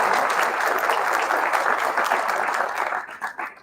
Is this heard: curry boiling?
no